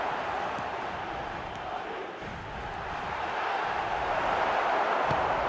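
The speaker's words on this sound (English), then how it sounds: "the crowd clearly like what they just saw" A stadium crowd in an eFootball match roars steadily and loudly throughout, a dense, continuous wall of cheering that swells slightly toward the end with no clear pauses.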